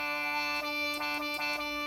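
A Harminator, an original prototype wind instrument, played up an octave: a bright sustained tone with rich stacked harmonics and a few slight pitch shifts or note articulations, heard alone and close.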